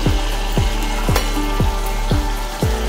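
Rice butter chakli made from ration rice frying in hot oil in a kadhai gives a loud, continuous crackling sizzle, with a repeated pulsing sweep about every half second and no voices.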